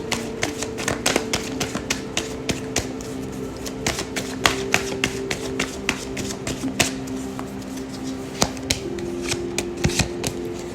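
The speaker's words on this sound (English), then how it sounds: "I actually want to pull 2 more cards for you to end off this reading" Tarot cards are shuffled and pulled, giving a steady run of crisp riffling snaps and taps close up over a constant low background hum, with no voices.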